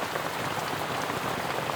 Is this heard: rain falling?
yes